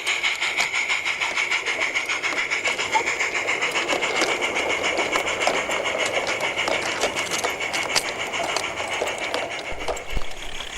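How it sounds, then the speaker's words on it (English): An ore train runs along the Peckforton Light Railway near Bulkeley Station, a continuous rumbling and clattering of wheels on rail with rapid rhythmic clicks, steady and moderately loud throughout. "The last up ore train of the day comes out of the Coppermine branch."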